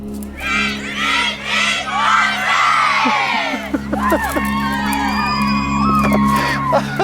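A crowd cheers, whoops and shouts loudly at an outdoor event, with excited overlapping voices rising and falling close by over a steady low hum.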